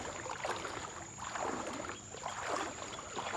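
Calm water lapping at a fishing harbour with boats moored, soft sloshing swells rising and falling in gentle waves, faint and distant, no talk.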